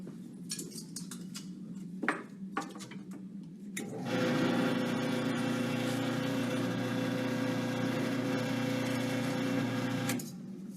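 A power drill whirs steadily for several seconds after a few short clicks and clatters, running loud and close before cutting off, while making cookie cutters in a makerspace.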